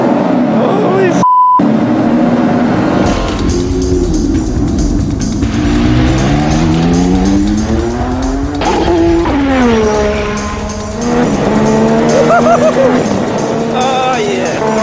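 A 1980s McLaren MP4/4 Formula 1 car rounds a corner, its engine rising and falling in pitch through the revs with squealing tires, loud and close, while a voice talks over it.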